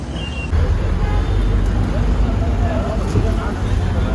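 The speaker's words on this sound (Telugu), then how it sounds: "బస్సు కూడా వచ్చింది ఒకటి." A bus pulls up at a roadside stop in Surathkal, a steady engine rumble amid continuous traffic noise that swells after the first half second and holds loud and close throughout.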